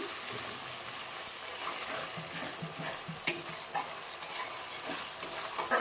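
Masala in oil stirred and sautéed in a pan with a steady soft sizzle, broken by scattered scrapes and taps of the spoon against the pan.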